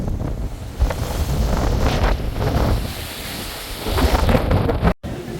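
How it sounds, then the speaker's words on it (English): Strong wind gusts roar across the microphone while heavy waves churn on the open sea off Norway, heard from a cruise ship as loud, continuous buffeting that surges and eases. "The wind is howling and the waves are catastrophic."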